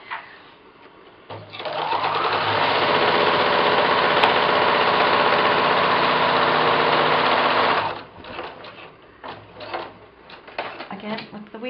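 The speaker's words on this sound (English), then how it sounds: "I'm just going to do a couple stitches with the wheel on the edge of the machine" Sewing machine stitching through paper, a steady close mechanical whir lasting several seconds before it stops, followed by softer handling sounds.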